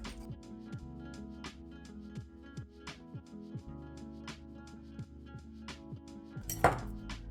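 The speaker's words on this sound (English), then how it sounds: "now I'm going to gradually stir in 130 millilitres of milk" A utensil scrapes and clinks steadily against a bowl as milk is stirred into matcha pancake batter. The knocks are soft and rhythmic over quiet music in the background.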